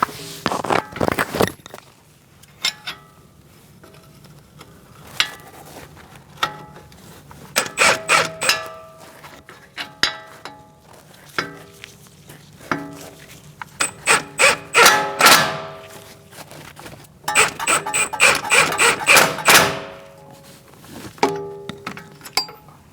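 Metallic ratcheting and clinking bursts in repeated clusters as strut bolts are snugged up on a 2002-2006 Toyota Camry front wheel bearing job, fairly close with quiet gaps between, no talking.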